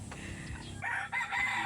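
A rooster crows loudly and close by, with a short break partway through the call, over low rumbling background noise.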